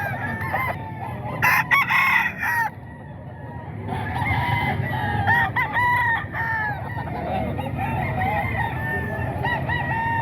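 Roosters crow and chickens cluck nearby at a poultry sale, with overlapping calls throughout and a busy farmyard murmur underneath.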